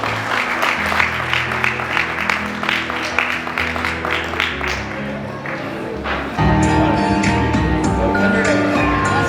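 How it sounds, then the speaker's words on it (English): Guests at a sweet sixteen party clap in a round of applause over loud party music, the clapping gradually thinning as a new song starts up strongly partway through. "Everyone, give them a big round of applause"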